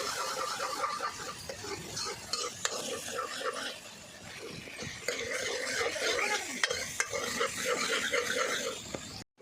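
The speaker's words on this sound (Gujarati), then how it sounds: "હળદર પછી મિક્સ કરી લેવું બધું" Turmeric and spices being stirred in a pan while making Maggi noodles, with close scraping of a spoon against metal over a light sizzle and sharp clicks of the utensil.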